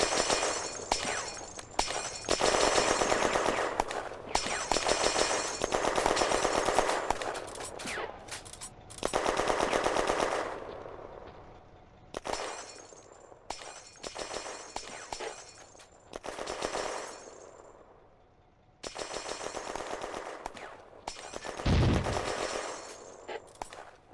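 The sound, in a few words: heavy gunfire in Firefight video game battle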